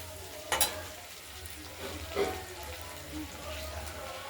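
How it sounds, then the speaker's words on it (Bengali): Katla flat beans frying in oil in a kadai, a soft steady sizzle running throughout with a few brief scrapes of stirring. "হচ্ছে শিম ভাজাগুলো হয়ে এসেছে প্রায়"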